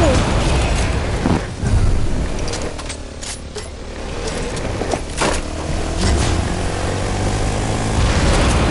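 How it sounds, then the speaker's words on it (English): Propeller airplane droning overhead in a video game, a continuous loud engine hum with mechanical clatter and a few sharp bursts along the way. "I forgot there's planes over here!"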